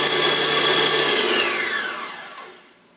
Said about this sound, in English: I just wanted to show you guys what the whisk attachment looked like when it was working